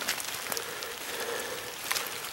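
Steady, soft hiss of rain falling outdoors around a ground blind during a Michigan bow deer hunt, faint and continuous with no other clear sounds.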